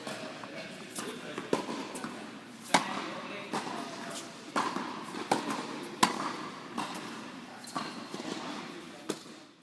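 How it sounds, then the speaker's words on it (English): Tennis ball struck by rackets during a rally, a series of sharp, irregular pops and thwacks over a busy court background. "As you can see in this rally, the ball hitting a racket is what makes us keep playing."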